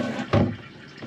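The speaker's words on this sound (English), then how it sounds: "And then obviously I'll fill each one of them up with fresh water to stow" Fresh water is poured to fill containers aboard a sailboat, a brief close splashing gush rising sharply then tapering into a softer trickle.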